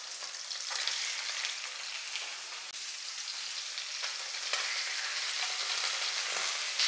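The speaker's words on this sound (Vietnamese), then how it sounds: "mình cũng bắt cái chảo lên để mình chiên" Four fish frying together in a pan of hot oil give a steady, close, continuous sizzle with small crackling pops throughout and no talking.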